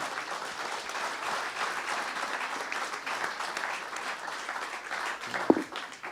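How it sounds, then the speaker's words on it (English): An audience gives a dense, steady round of applause for the panelists at the close of a conference panel on hydrogen and its derivatives. The clapping is continuous and evenly sustained throughout, with one sharper clap standing out near the end. "join me in applause for our panelists"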